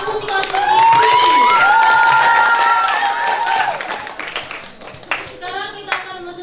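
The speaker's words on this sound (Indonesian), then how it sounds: "Kita berikan tepuk tangan yang meriah dong untuk kelima finalis lomba musikalisasi puisi" Audience at a school language-month competition applauding the five poetry musicalization finalists, clapping mixed with crowd noise and a sustained tonal sound in the first half, fading into scattered claps and chatter toward the end.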